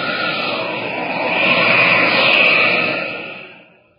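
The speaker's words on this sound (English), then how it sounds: "It's a plane!" Airplane engine drone as a radio show sound effect, loud and steady, swelling slightly as the plane passes and then fading away at the end, with no voices over it.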